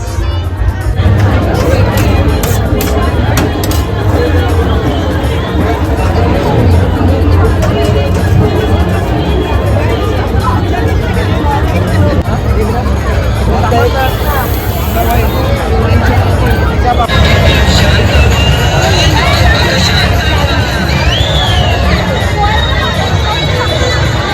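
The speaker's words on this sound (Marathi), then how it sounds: "गर्दी" A dense, loud crowd bustles continuously at the Agri Koli festival in Dombivli, overlapping chatter and voices filling the space without pause.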